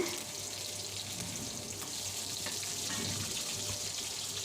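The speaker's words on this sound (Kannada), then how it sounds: "ಈಗ ಎಣ್ಣೆಯಲ್ಲಿ ರೋಸ್ಟ್ ಆಗ್ತಾ ಇದೆ" Onions and curry leaves roast in hot oil for a village-style hitakida avarekalu saru, giving a continuous soft sizzle and crackle that stays close and quiet throughout, with no talking.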